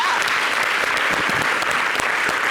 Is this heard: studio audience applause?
yes